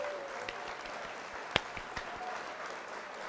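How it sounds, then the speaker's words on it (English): Recorded applause plays as a sound effect on a livestream, a short burst of steady clapping at moderate volume with a few sharper claps standing out. "I'm going to throw the applause in there."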